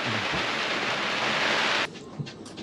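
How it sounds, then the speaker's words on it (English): Steady, dense rain hisses loudly on a sailboat for about two seconds, then abruptly drops to a softer patter with a few scattered drops. "Oh, rain. It started raining."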